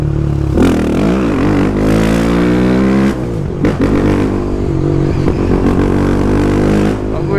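Honda CB Twister 300F motorcycle running with no exhaust muffler and no air filter, loud raw revving with rising and falling pitch sweeps, several blips in succession, close and unmuffled.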